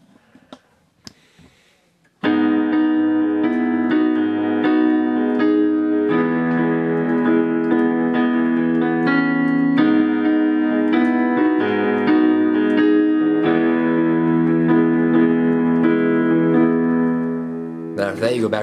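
Piano played with the left hand in a riff from a song: sustained, ringing chords start after about two seconds of near silence and continue loud and steady to the end, with no talking over them.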